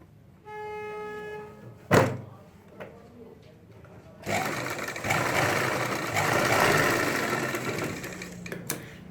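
A sewing machine runs in one long, steady, close burst while stitching the side zip of a ladies' pant. It comes after a sharp thunk and some quieter handling.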